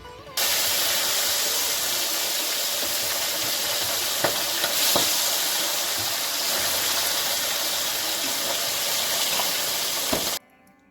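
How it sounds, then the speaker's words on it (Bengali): Parshe fish frying in hot oil in a wok, a loud continuous sizzle and hiss close up with a few sharp pops and crackles, steady for about ten seconds before stopping. "মাছটা ভাজা করতে বসাবো বলে।"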